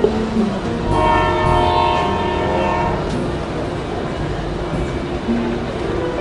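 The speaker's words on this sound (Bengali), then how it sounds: "রৌদ্রতপ্ত এই অপরাহ্নে ট্রেনটি স্টেশনে পৌঁছলো।" A train pulls into a station in an audio drama scene, a continuous loud rumble with a horn tone sounding through the first few seconds.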